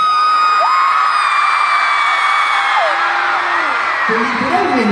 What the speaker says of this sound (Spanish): Y es con semejante cantidad de personas gritando tanto.